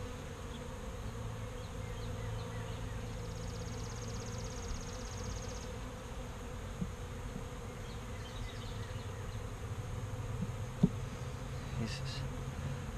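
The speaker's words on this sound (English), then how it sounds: "This hasn't had any expansion of brood in such a long time, and yet there's a lot of bees here." Honeybees drone continuously inside an open beehive, a steady low humming swarm with occasional individual bees buzzing closer past the listener.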